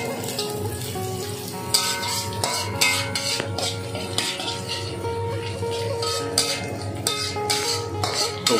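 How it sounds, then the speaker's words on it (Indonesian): Garlic stirred in a sizzling pan while cooking stir-fried bucai greens with ginger and chili: steady frying hiss with repeated metallic scrapes and clinks of a utensil against the pan, close up. "Masukkan bawang putih. Kacau lagi."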